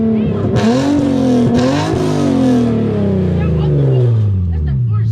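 A turbocharged car with a new wastegate dump revs hard on a two-step, loud sweeping engine tones rising and falling with sharp bursts and pops, close up, with people talking over it.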